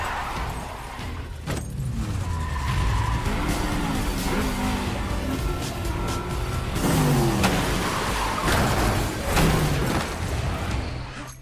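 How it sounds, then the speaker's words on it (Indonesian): Cars skid and ram into one another during a violent John Wick chase, tires squealing in long sweeps over a steady engine roar with heavy crunching impacts, no voices. "mencoba menghentikannya dengan menabrakkan mobil mereka masing-masing"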